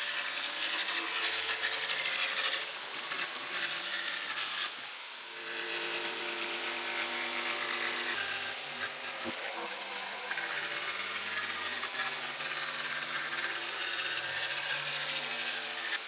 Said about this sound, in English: I'll cut it out with a jigsaw